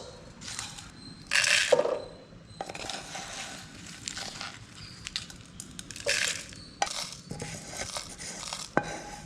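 Spices for a chicken biryani pickle are tipped into a mixer-grinder jar, giving scattered hard clatters, rattles and crunchy rustles in several short bursts over a low room background.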